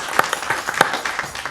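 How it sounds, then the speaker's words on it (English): Brief scattered clapping at a city council meeting, a few separate claps from a small group over a short moment. "And round of applause for these guys."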